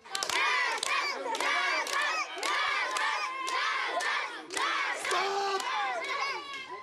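A group of children yells together in a loud, rhythmic burst of chanting and shouting, repeated in several waves with brief dips between them, outdoors in a town square.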